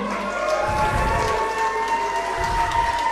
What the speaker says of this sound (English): The crowd showing appreciation for both women.